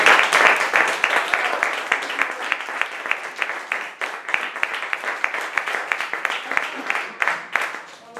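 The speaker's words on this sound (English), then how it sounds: "Please give a warm round of applause." Audience applause at a talk at an art gallery in Provincetown, a dense field of many hands clapping, loud and sustained across the whole stretch and thinning only slightly toward the end, with no voices over it.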